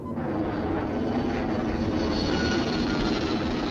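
A small aircraft circles to find a landing spot in a rocky reserve, its engine droning loud and steady through the whole stretch with no talking.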